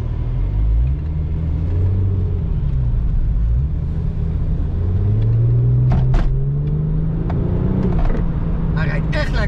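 A car drives along, its engine rumbling steadily and rising in pitch as it accelerates, with a few sharp clicks and rattles near the end.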